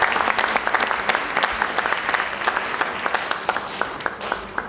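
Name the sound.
applause for party leadership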